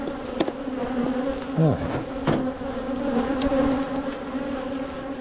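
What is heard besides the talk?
honey bees buzzing around beekeeper at hive inspection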